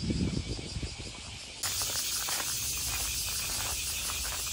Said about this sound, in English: That's a Japanese summer sound right there. The cicada, semi.